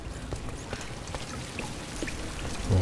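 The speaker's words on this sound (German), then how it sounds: "Weil regnet's rein." Rain pours in through a roof in the video game Tomb Raider (2013), a dense continuous patter and trickle with scattered heavier drops, steady and close throughout.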